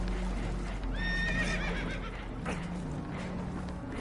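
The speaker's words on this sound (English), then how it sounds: "Horses are spooked" Spooked horses whinny and neigh in a rising, wavering call in Red Dead Redemption 2, heard over a steady low rumble of moving water or a boat with hoof clatter, followed by a second shorter neigh.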